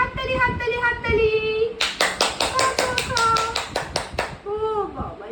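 Hands clap in a quick, even run of about ten claps at a 17-month-old boy's birthday cake cutting at home. The claps are close and loud, with adult voices talking and singing before and after.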